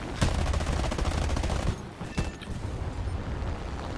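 Rapid bursts of aircraft cannon and machine-gun fire from a LaGG-3-23 strafing pillboxes in War Thunder, a dense rattling stream for about two seconds, then a sharp second burst and lingering engine rumble.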